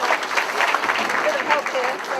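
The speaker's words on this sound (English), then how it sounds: "A clap as he dresses up" Audience applause at a 70th anniversary celebration as a man is dressed in a traditional Maasai shuka, steady clapping filling the room with voices talking over it.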